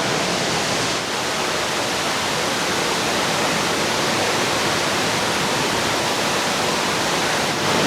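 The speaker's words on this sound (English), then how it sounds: "so we are 5 minutes in and it's still going. It creates quite a breeze as well." Water fountain show at Marina Bay Sands in Singapore, a continuous, loud rushing hiss of spraying and falling water that holds steady without a break and with no voices.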